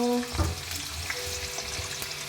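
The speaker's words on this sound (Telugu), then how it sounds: "ఆయిల్లో పొటాటోస్ అన్నీ మంచిగా ఫ్రై అయిపోతున్నాయి." Potatoes frying in hot oil in a home kitchen, a close, continuous sizzle with a brief louder burst near the start and small crackles throughout.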